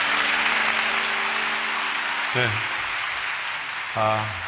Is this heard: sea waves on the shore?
no